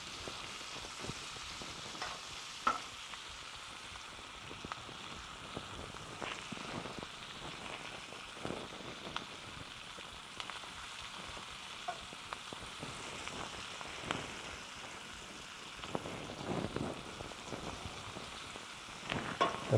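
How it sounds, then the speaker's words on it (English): Skirt steak sizzling in a frying pan, a steady close hiss and crackle of fat with scattered sharper pops, without talk. "I'm sure you can hear the sizzling on the frying pan."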